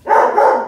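A single loud, close dog bark, brief and sharp, heard on its own.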